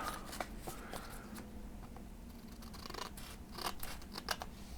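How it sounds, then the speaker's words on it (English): Scissors make straight cuts through folded paper for a snowflake, with close, quiet crisp snips and rustles recurring irregularly and no voice. "You can cut even more off to create an even, an equal hexagon shape."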